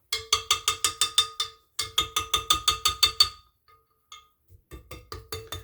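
A stand mixer attachment being worked loose, with two runs of rapid, evenly spaced metallic ratcheting clicks, close and loud, then a pause and a few softer clicks at the end.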